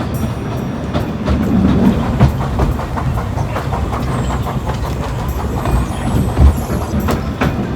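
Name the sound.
narrow gauge railway train running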